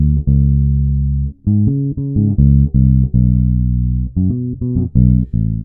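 Fretted electric bass line played without open strings, a steady sequence of plucked low notes with short gaps between phrases, clear and close with no voices over it.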